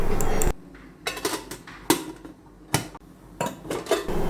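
A metal lid clanks onto an idli steamer pot holding boiling water, giving several sharp metallic knocks and rattles separated by short pauses, close and clear with no talk.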